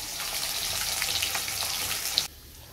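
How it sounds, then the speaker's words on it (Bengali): Fish frying in a pan in a home kitchen gives a steady, close spitting sizzle with scattered pops, ending with an abrupt cutoff near the end. "মানে মাছগুলো ভাজা হচ্ছে"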